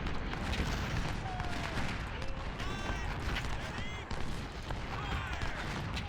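Artillery fire in the video game Ultimate General: Civil War, set at Fredericksburg, booms in a dense, continuous barrage of loud cannon blasts mixed with battle noise and distant crackling volleys.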